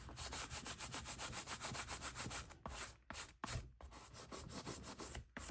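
Fabric tack is rubbed on a junk journal cover in fast, rhythmic scratchy strokes, very close but faint, with a few brief pauses.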